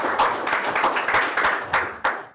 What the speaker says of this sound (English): If we can give a round of applause to Jake.